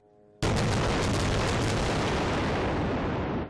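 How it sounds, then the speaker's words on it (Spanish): A massive bombing explosion from the Israel-Hamas war bursts in suddenly and stays loud and dense, a broad roaring blast that rumbles on for a few seconds before cutting off. "con bombardeos masivos"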